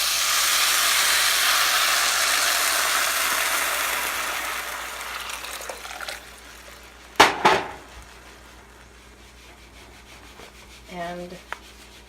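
Water is poured into a cooking pot during kitchen meal prep, a steady broad rushing hiss for several seconds that gradually fades, followed by a couple of sharp clanks and a brief voice.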